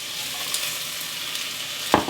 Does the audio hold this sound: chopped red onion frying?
yes